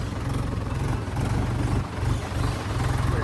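A tractor engine chugs in a low, steady, pulsing drone, loud and close, while it is driven off-road along a badly damaged, rain-soaked path.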